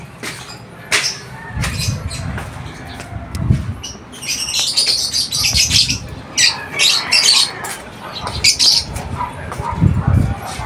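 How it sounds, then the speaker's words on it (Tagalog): African lovebirds in an aviary cage squawk and chirp in sharp, shrill bursts, several birds calling close by with irregular overlapping cries, some wing and cage rustling, and someone speaking in between. "Ayan ang ating mga African lovebirds."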